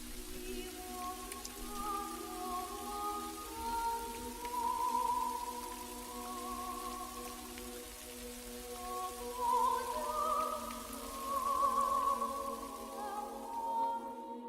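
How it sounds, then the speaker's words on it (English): Soft, steady rain patters continuously, falling into a spare room, with faint tonal music drifting underneath at low volume. "the rain falling into the spare room"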